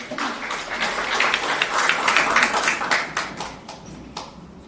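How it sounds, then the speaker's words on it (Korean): Applause from the audience at a Seoul mayoral campaign event, dense clapping welcoming a speaker to the stage, fairly close and lively, rising and then thinning out toward the end. "큰 박수로 맞아주시기 바랍니다"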